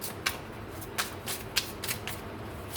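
Tarot cards are shuffled by hand close up, with repeated soft riffling bursts and a steady papery rustle throughout and no talk.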